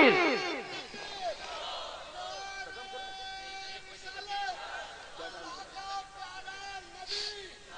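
A large crowd at a religious gathering roars a loud collective chant in answer to a preacher's call, voices swelling together at the start and then continuing in rising, overlapping shouts.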